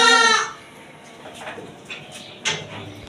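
Young six-month-old goat at a livestock market in Karachi, bleating loudly once up close, followed by softer scattered bleats and a sharper cry near the end amid market background noise.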